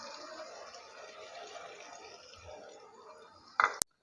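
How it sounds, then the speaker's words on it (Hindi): Water pours steadily into a pan of nearly fried potatoes while aloo bhujia is cooked, a soft continuous wash ending in a short clatter. "अब हम इसमें थोड़ा सा पानी ऐड करेंगे"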